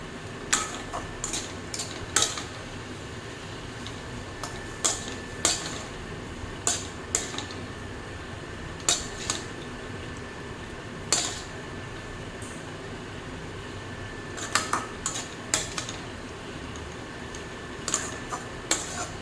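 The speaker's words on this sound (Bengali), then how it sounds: "এখন ঘিটা দেওয়ার পর আবারও ভালোভাবে নাড়তে থাকবো" Vermicelli (semai) pulao with ghee being stirred in a pan, a spoon clinking and tapping against the metal in irregular sharp knocks over a low background hum, no talking.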